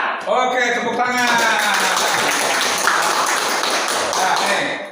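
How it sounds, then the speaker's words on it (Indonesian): Training participants at a supervisory skills workshop in Subang break into a brief burst of close, dense hand clapping after a short spoken cue, the applause continuing steadily for several seconds before fading. "Oke, tepuk tangan."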